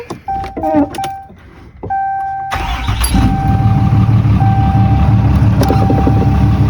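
A few electronic dashboard chimes, then a pickup truck engine cranks and catches, settling into a loud, steady idle nearby.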